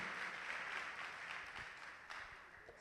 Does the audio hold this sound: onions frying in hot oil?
no